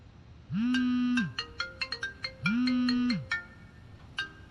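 A melodic electronic ringtone plays two repeating phrases, each opening with a long sustained tone followed by quick chiming notes, clear and fairly near.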